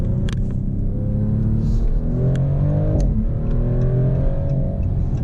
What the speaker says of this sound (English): So we could do a little acceleration here.